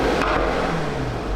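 A Mercedes-AMG GT V8 revs loudly from inside the cabin, a dense, steady engine roar with a pitch that climbs briefly, heard alone for just over a second.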